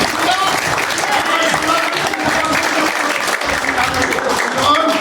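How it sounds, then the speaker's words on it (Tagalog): A church congregation at an anniversary worship service bursts into loud, sustained applause, a thick wall of many clapping hands close by, with scattered voices mixed in throughout. "Isang malakas na palakpak"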